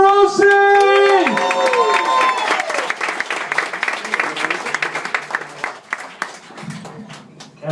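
Comedy club audience applauding and cheering as a comedian is brought on stage, a dense burst of clapping that tapers off, with a host's amplified voice and music sting at the start.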